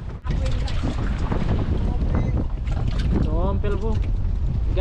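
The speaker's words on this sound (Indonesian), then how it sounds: "di sini ombaknya sangat deras" Strong sea waves and wind buffet a small fishing boat, a loud rushing roar with heavy wind noise on the microphone. People talk over it throughout.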